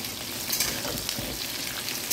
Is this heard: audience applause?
no